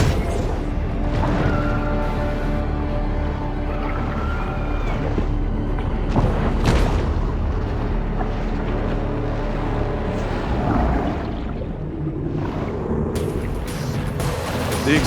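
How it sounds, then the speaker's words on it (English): Loud, continuous rumbling blasts and crashing debris from a video game explosion in Maneater fill the whole stretch, with a thick low roar and sharp bursts layered over it. "The explosion has drawn unwanted attention."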